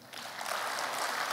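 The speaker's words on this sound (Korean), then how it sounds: "박수 한번 주십시오." An audience applauds at the 24th Manhae Award ceremony in South Korea. The clapping is a dense wash of many hands that swells after a brief start and holds steady and loud, with no talking over it.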